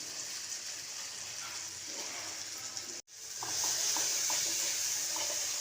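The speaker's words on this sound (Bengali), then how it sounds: "আদাটাকে ভালো করে ভেজে নিচ্ছি" Ginger and garlic sizzle steadily in hot oil in a pan after onions, a dense close hiss with a brief drop near the middle, then louder frying with small crackles.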